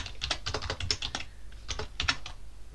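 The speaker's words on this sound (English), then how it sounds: "I am going to type sudo nano" Someone types a terminal command on a computer keyboard for a Raspberry Pi, producing two close bursts of rapid key clicks separated by a short pause, with no voices.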